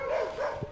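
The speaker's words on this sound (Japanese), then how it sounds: "あ、犬に吠えられております。" A dog barks at people walking past on a quiet road on Nokonoshima island, a short close bark with a tonal whine heard alone.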